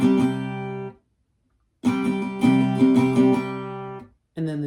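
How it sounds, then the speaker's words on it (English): An acoustic guitar strums the C prime chord from a song in two bursts separated by a silent pause, the second with several rhythmic strokes, close and clear with no talking. "So the C prime portion of section 1 would sound like this."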